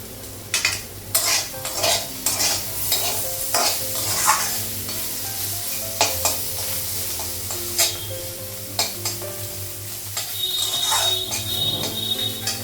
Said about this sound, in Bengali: করলা ভাজাটা হয়ে গেছে